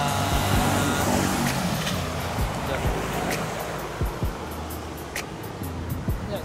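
Cars passing on a street in Phuket at early morning, engines swelling by close at hand one after another over steady background roar, with people talking nearby.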